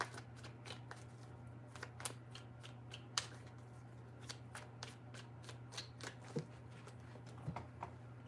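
Tarot cards are shuffled by hand close up in a steady series of soft, crisp riffles and taps, with a low constant hum underneath and no talking.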